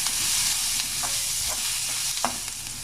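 Onions sautéing in a pan for potato bonda, a continuous bright sizzle with a few soft stirring scrapes, close and steady with no talking.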